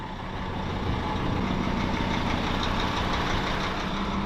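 A Hyundai haul truck of about 370 horsepower runs nearby with a steady, loud diesel rumble and a broad, even roar that holds without a break.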